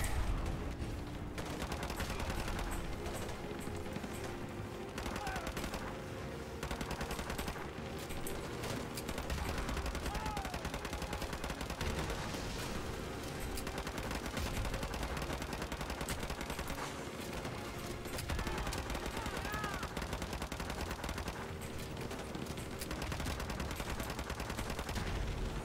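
Gunfire in the MW2 Remastered campaign, with a dense, continuous stream of rapid shots and bursts over rumbling game noise, steady and full-sounding throughout.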